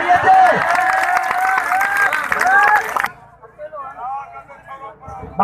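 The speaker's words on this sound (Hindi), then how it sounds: "तालियां दे" A crowd at a malakhiro wrestling bout in Shahpur Mahar, Ghotki, claps and cheers loudly for about three seconds, with shouting voices mixed in, then breaks off as a voice carries on speaking.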